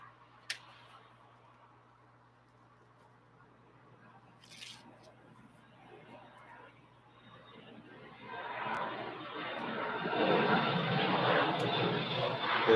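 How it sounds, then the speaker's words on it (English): A fixed-wing airplane passes over an apartment, its engine drone swelling from faint to a loud, sustained roar in the second half, heard through an open window over a low steady hum with a brief click early on. "There's one of those planes."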